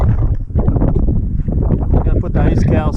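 Strong wind buffets the microphone in heavy, rumbling gusts at a South Dakota turkey hunting spot, while someone talks over it.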